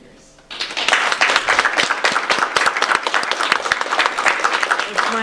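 Sustained applause from an audience at the Silverman Awards Ceremony, a dense wash of many hands clapping that starts abruptly after a brief quiet moment and carries on steadily at full strength.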